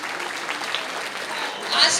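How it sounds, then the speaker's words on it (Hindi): Applause from an audience at an Aarfa Muskan Agro Forms India agriculture seminar keeps up a steady, moderate patter, swelling slightly near the end, with a voice speaking over it. "और अल्फा मुस्कान के लिए भी जोरदार तालियां"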